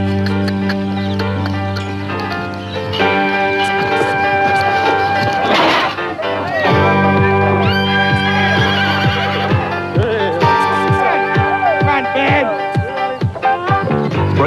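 A horse being broken on an outback cattle station whinnies and neighs in several pitch-sliding calls over a steady tonal bed, with no voices present.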